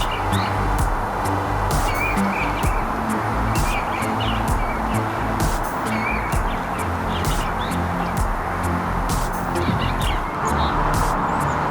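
An eastern bluebird calls outdoors in spring, giving short, thin chirps and warbles that repeat irregularly over a constant rushing background noise, fairly distant and without any voices.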